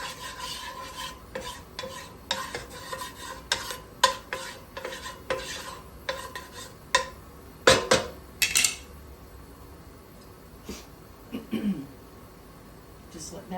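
A spatula scrapes and taps against a pan while vegetables are sautéed, a series of close, irregular clanks and scrapes over a faint sizzle, with a voice talking at times.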